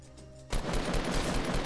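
Rapid automatic gunfire from a Fortnite match erupts suddenly after a brief quieter stretch and continues as a loud, dense barrage with no talking.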